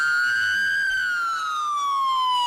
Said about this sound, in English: The sound of 100 police sirens took over the main drag through Rolla